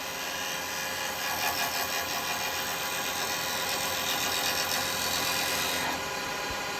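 A roughing gouge rides its bevel against a spinning wooden bowl blank on a lathe. A continuous whirring hiss of cutting wood runs steadily for several seconds, loud and close, with no talk.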